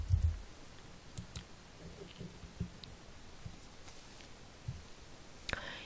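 Sparse, sharp clicks from a computer mouse come at irregular intervals, close and quiet against a faint background hum, with no one talking.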